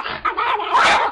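A dog lunging at a woman, heard as a short, loud burst of snarling and barking up close, rough and agitated, lasting about a second.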